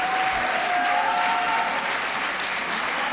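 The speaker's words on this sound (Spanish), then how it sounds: "Quiero pedirles un aplauso para ellos, para ellas." Applause rises in a legislative chamber as lawmakers and medical cannabis organizations seated in the galleries are honored, a thick continuous clapping from a large crowd filling the room at an even level.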